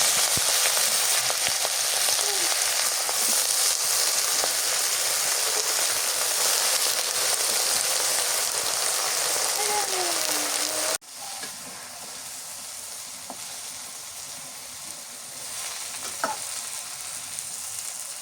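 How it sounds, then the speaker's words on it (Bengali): Bottle gourd greens go into hot oil with fried garlic and green chilli, raising a loud, continuous sizzle that drops to a softer, steady hiss partway through. "রসুন কাঁচামরিচ ভাজা হয়ে গেছে, এবার শাকগুলো দিয়ে দিই"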